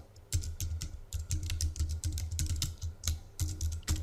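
Fingers tap out quick bursts of keystrokes on a computer keyboard, a steady clatter of clicks with short pauses between runs, close and clear with no talking.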